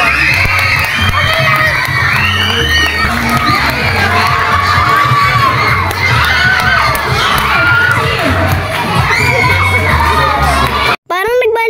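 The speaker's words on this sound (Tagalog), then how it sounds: "Mga kilig hiyawang-hiyawan" A large crowd screams and cheers with excitement at a Valentine's modelling pageant, a dense continuous roar of shrill shouts that stays loud throughout and cuts off sharply near the end.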